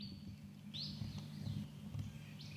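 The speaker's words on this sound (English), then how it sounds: "I hear a brown thrush." A brown thrush sings a few rising, whistled phrases at a distance over a low, steady outdoor rumble.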